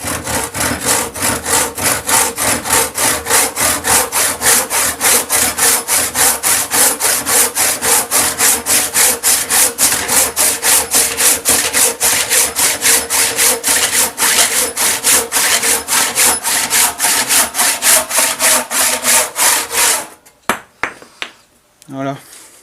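A freshly sharpened hand saw cuts through wood in quick, regular rasping strokes, loud and close, rhythmic back-and-forth rubbing for about twenty seconds before the cut ends with a few scattered knocks.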